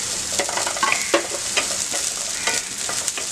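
Steady loud sizzling and stirring as capsicum, green chili, vegetables and paneer sauté in a pan over high gas, with scraping strokes of a spatula up close.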